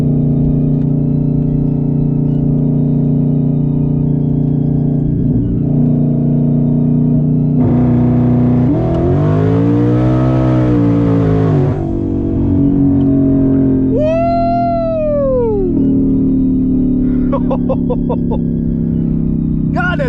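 Twin-turbo Mustang with rolling anti-lag, engine droning loudly and steadily, a swelling rev with rough pulsing, then sharp rising and falling whistles and crackling pops, close and continuous.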